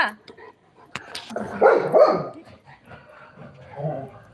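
A local street dog barks and whimpers nearby in a few short bursts, mixed with a person talking.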